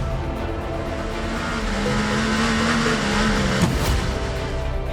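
A Proton Racing Ford Mustang race car spins on track during the Petit Le Mans endurance race, its engine note droning and wavering before a sharp skid or impact near the end, loud and close.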